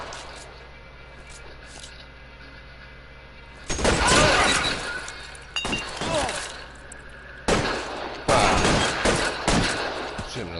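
Sharp bursts of gunfire in the video game L.A. Noire, three loud volleys separated by brief lulls after a quiet stretch, with clattering impacts and voices talking between shots.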